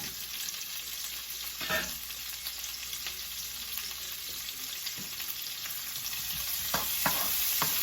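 Chopped onions sizzle and fry steadily in a hot pan for a cabbage and pork chop dish, a continuous close crackle with a brief stirring clatter partway through and slightly louder sizzling toward the end.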